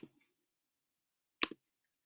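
A few quick computer mouse clicks while words are picked on screen: a sharp double click near the middle, then a faint tick at the end, with silence between.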